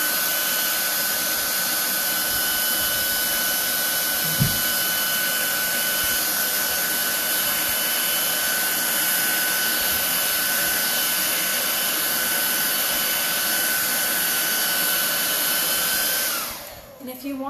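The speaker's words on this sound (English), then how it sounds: "I'm just gonna hit it with a blow dryer so it dries quick." A handheld blow dryer runs at a steady, loud, continuous roar while drying a chalk transfer for a home decor wreath, then cuts off abruptly near the end.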